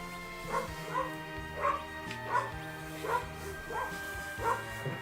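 Several dogs barking repeatedly at a steady rhythm, moderately loud, over a background of game music.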